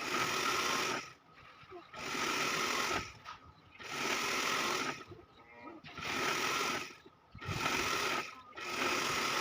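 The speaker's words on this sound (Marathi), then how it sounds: "याप्रमाणे आपल्याला सरळ टीप मारायची आहे" Electric sewing machine runs straight stitches through a king-size nine-by-nine quilt, its whirring motor in repeated bursts of about a second or two separated by short pauses, close and steady.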